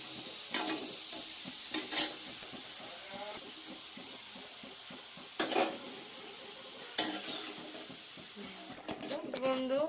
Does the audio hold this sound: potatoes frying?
yes